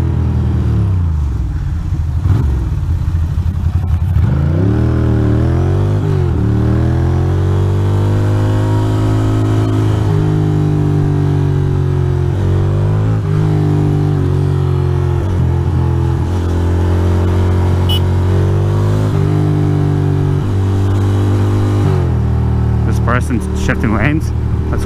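Ducati Monster motorcycle engine on a street ride through New York City, with rising and falling engine tones as the rider accelerates and shifts. Someone talks over it throughout.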